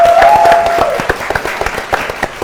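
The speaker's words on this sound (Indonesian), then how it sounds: "kita beri tepuk tangan yang meriah dulu untuk dua tim" A game-show studio audience bursts into loud, hearty applause for two competing quiz teams, a dense wash of clapping that thins into scattered individual claps as it fades.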